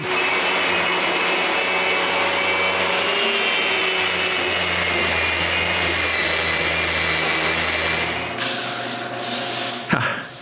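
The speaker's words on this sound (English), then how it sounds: "I sand everything smooth." A wooden workbench top being sanded smooth after routing, a loud continuous power-sander whir with steady rubbing friction that runs unbroken before cutting off near the end.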